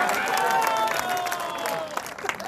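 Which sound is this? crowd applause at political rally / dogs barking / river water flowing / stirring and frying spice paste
crowd applause at political rally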